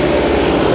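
A Mahindra tractor engine runs at an old tractor market, giving a loud, steady, close-up diesel drone with a throbbing low rumble and no break or talking.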